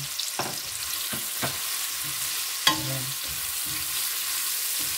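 Tomato, onion and garlic sauté in a hot pan for adobong pusit, crackling with a soft continuous sizzle broken by a few sharp stirring clacks of a utensil against the pan.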